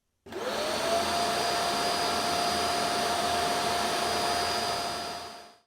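Lefant M3 robot vacuum base station auto-emptying its dustbin: a loud, steady motor whine that spins up quickly, holds a constant pitch for about five seconds, then winds down, close and with no talk.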